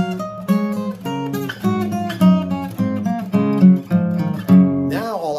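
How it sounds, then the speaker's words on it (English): Piano plays a low bass line and a scale together, notes moving in rhythmic steps, ending with a brief sliding voice-like sound. "that bass line plus that scale, play them at the same time."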